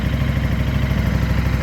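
A KTM 1000 cc motorcycle engine idles close by, a loud, steady low rumble with a fast, even pulsing throb and no voices over it.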